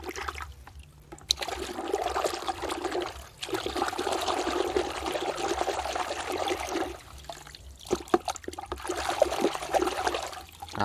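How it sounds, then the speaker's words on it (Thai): Water is poured from a bucket to rinse a newly installed water heater, a steady splashing flow running for several seconds, pausing briefly, then continuing in bursts with no voices. "เตรียมน้ำมาไว้ในครุนะครับ จากนั้นก็ ล้างเลยนะครับ"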